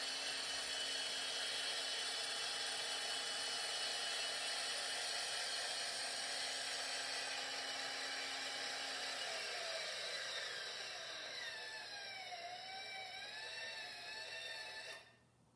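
An electric linear actuator raises a roof-mounted Hi-Q antenna with a steady, close, high motor whine. Partway through it dips and wavers in pitch, then cuts off abruptly near the end as the travel stops.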